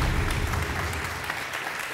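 Audience applause at a Quran recitation competition, a steady dense clapping wash that holds at an even level from start to finish with no voices on top.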